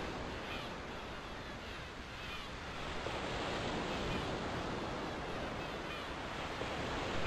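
Sea waves in the farming video game Harvest Moon Magical Melody, during a seaside firefly festival: a steady, soft wash of surf with a breezy hiss, continuous and faint, with no talking.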